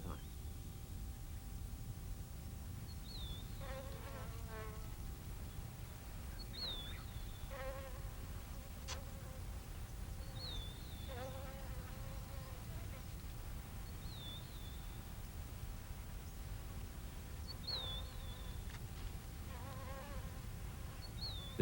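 Flies buzz steadily around a resting cheetah on the savanna, a continuous close insect drone with repeated chirping birdsong calls over it.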